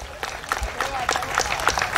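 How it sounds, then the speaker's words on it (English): A crowd at an outdoor youth road-walk and empowerment event claps in a quick, uneven burst, moderately loud and close, with voices talking over the clapping. "Let's clap, let's clap."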